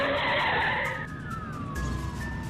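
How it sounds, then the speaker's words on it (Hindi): A car skids as the driver swerves to avoid an oncoming bus and loses control, a loud sustained tire screech sliding downward in pitch over about two seconds, with no voices. "वो बस को बचाने की कोशिश में गाड़ी पर से संतुलन खो बैठा"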